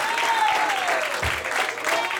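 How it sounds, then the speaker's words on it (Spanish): A church congregation applauding, dense continuous clapping from a crowd filling the room, with a voice sounding faintly underneath. "Con todo un aplauso al Padre, Hijo y al Espíritu Santo."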